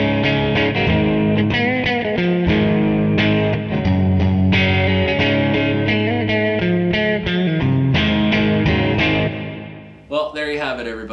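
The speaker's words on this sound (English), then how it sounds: "you're still going to get a lovely reverb sound" Guitar played through a pedal reverb effect modelled in Pedal Customizer software, set to a narrower stereo spread; distorted chords ring out continuously and loudly with a wash of reverb for about ten seconds before a short, separate sound at the end.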